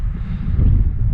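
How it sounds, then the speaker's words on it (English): Strong wind blows outdoors on an upland hike, a continuous low roaring rumble buffeting the microphone, steady and loud with no voices. "but it's just really windy"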